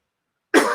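A single sharp cough bursts out after a moment of silence, close and fairly loud, trailing into a rough throaty rasp.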